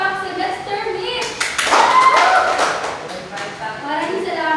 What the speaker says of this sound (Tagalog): Bigyan ng tatlong palakpak si Mr. Miss.